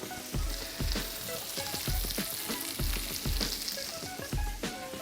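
Roasting potato pieces seasoned with Creole seasoning are stirred in a hot pan, giving a rhythmic series of scraping, clattering strokes over a steady sizzle, close and moderately loud, with no talk.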